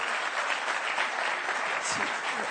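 A seated audience applauds a speaker at a formal institutional event, a dense, steady patter of many hands clapping close by for a couple of seconds without a break.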